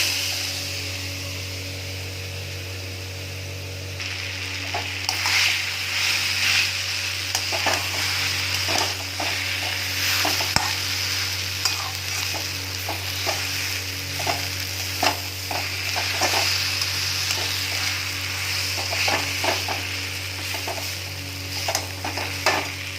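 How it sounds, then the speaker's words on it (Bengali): Spices with ginger paste sautéed and stirred in a pan, a steady close sizzle with a low hum beneath and repeated scraping stirs of a spatula throughout, no talking. "সব মশলাগুলো কষিয়ে নিচ্ছি।"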